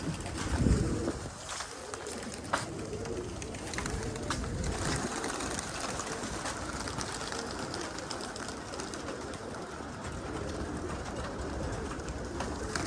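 Pigeons coo steadily near their coop, with soft repeated throaty calls close by over a constant low rumble and rustling background, plus an occasional sharper knock.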